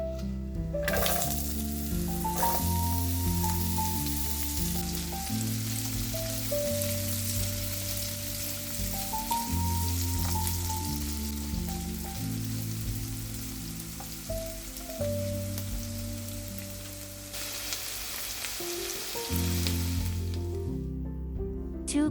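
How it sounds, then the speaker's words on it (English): Onion sizzles and crackles steadily in a hot pan, a soft continuous frying hiss with light spattering under background music, with no talking. "Sauté the onion."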